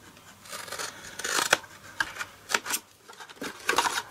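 Scissors snip through card while a box with an integral squash lid is made, a run of sharp, close cutting strokes, irregular and spaced out, with no talking.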